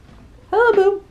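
Feral cat meowing indoors during feeding time, a single short, clear, rising-and-falling meow close to the listener.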